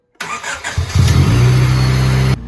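A manual-swapped Honda Civic engine cranks and catches, then settles into a loud, steady running drone close by. It cuts off abruptly at the end.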